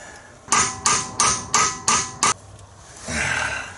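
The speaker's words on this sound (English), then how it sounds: "I have now given up hitting it with a hammer." Six loud, evenly spaced hammer blows ring out close by as a socket is driven onto a broken wheel nut, then a softer scrape follows.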